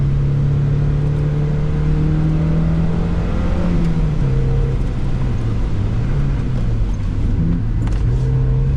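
A Mazda Miata NB 1.6 drifts sideways on a rain-soaked circuit, its engine holding a steady, loud drone that rises and dips slightly as the revs shift, heard from inside the car with no talking.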